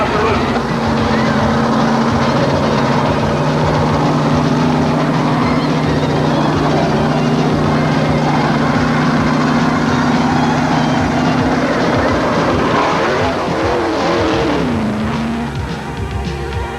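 1987 yellow NASCAR Chevy stock car screaming down pit road, a loud continuous engine roar that rises and sweeps past near the end, with no talk.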